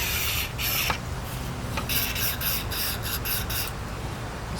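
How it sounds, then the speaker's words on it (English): Several short hissing bursts of aerosol cleaning spray down an AK-74 rifle barrel in quick succession, close up, with brief pauses between them and no talking. "spray some down the barrel"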